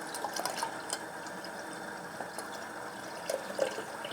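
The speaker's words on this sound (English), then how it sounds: "The noise you'll hear from the pump is water with lots of small air bubbles in" A PC water-cooling pump pushes water full of small air bubbles, giving a faint, steady gurgling trickle with scattered soft pops and drips over a low background hum.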